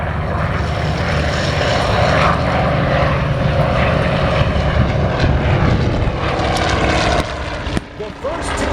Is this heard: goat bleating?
no